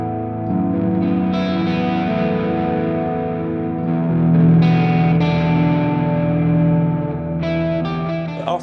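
A guitar plays a clean tone through a cheap Amazon amp modeler, giving sustained, ringing chords with a chorus-like shimmer and some echo, played alone without talk.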